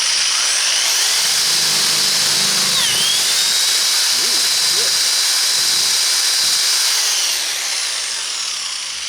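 A power drill whirs steadily through a hole while making a ferro rod, a high continuous grinding hum that holds loud for most of the stretch before easing off near the end.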